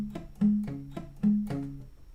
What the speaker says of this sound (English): So the shortened picking pattern sounds like this.